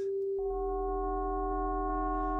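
A pure FM synthesizer tone abruptly shifts into a denser, metallic, clashing timbre with inharmonic sidebands, and that steady synthetic drone holds for about two seconds.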